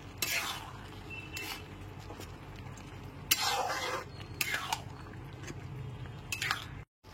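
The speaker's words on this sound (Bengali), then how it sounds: "গরম মশলা গুঁড়ো আর ঘিটাকে খুব ভালো করে মিশিয়ে দিচ্ছি" Ghee and garam masala stirred into chicken keema khichdi in a metal pot, a spoon scraping and clinking in several separate bursts over a low background hum, close and fairly loud.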